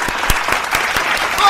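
Enthusiastic clapping from a crowd, rapid sharp claps in a dense burst of applause lasting a moment, with voices over it.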